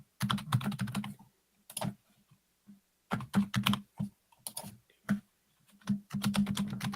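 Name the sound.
typing on a computer keyboard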